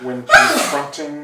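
A single sharp sneeze bursts out amid a group of tabletop role-playing players, close and loud, with people talking just before and after it.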